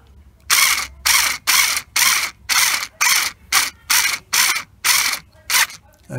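A ratchet wrench tightens the battery terminal bolt on a Vespa GTS 300 scooter, giving about eleven sharp, rhythmic bursts of close metallic clicking, each roughly half a second long, separated by brief pauses.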